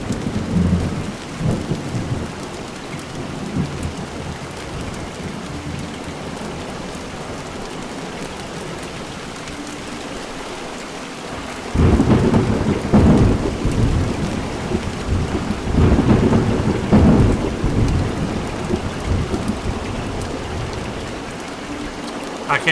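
Rain and a thunderstorm over an island in the video game Montague's Mount: steady heavy rainfall throughout, with deep rolling thunder swelling loudly around the middle and again later, no talking.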